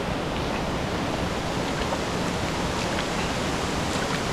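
A river near Sakleshpur flows steadily nearby, a loud, continuous broadband roar of current with no pauses.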